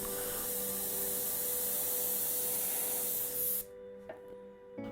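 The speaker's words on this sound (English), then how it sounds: "Tear a paper towel and spray along the torn edge to create the typical shapes of clouds." An airbrush sprays paint along the torn edge of a paper towel, a steady close hiss running unbroken for several seconds before cutting off abruptly, followed by faint handling noises.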